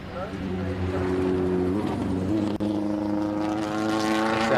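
A V8 endurance race car engine at the Simola hill climb, roaring past with rising and falling revs and sounding as if it misses gears, loud and continuous with a brief dip midway, while a commentator talks over it.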